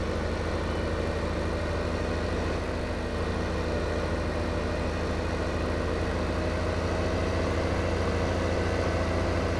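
A tractor engine idles in the Farming Simulator video game, a steady low drone at an even level that runs throughout with no voices.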